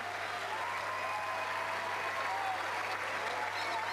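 Sustained, even applause fills the hall at the 1995 Eurovision Song Contest in Dublin as the crowd cheers the winners, with faint voices under the clapping.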